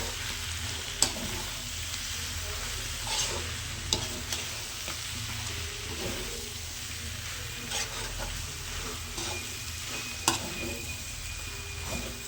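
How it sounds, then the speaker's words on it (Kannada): Pepper chicken stirred and fried in a pan, a steady sizzle running throughout with occasional sharp scrapes and clinks of the spatula against the pan. "ಒಂದು ರೌಂಡ್ ತಿರುಗಿಸ್ಬಿಡೋಣ"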